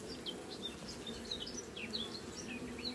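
A honeybee colony hums at the hive, a steady dense drone with individual bees zipping past close by, continuous and moderately loud for the whole stretch with no voices.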